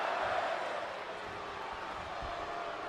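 Arena crowd in the WWE 2K24 wrestling video game, a broad, steady wall of many voices chanting and roaring in the distance, sustained without breaks throughout.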